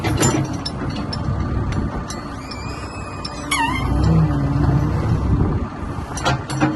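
A 2019 CAT 420F2 IT tractor loader backhoe runs at an outdoor auction yard, a steady close diesel rumble with mechanical clanks and a brief rising whine midway as it is operated.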